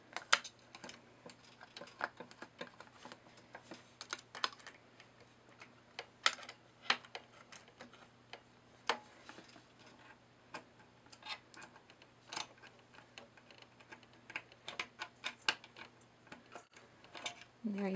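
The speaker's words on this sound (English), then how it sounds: "Grab those screws that you put to the side and simply screw them back in and tighten them." Small metal screws being driven back into the bobbin-area plate of a sewing machine by hand screwdriver, a run of quiet, irregular ticks and clicks close up, with a low steady hum underneath.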